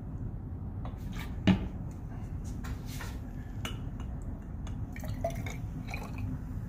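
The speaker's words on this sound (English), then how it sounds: "let me measure out a little bit of water in here, and I'll add it" Water is measured and poured into a transition-metal coordination complex solution in a lab, making faint, scattered drips and soft liquid trickles over a steady low hum, with no talking.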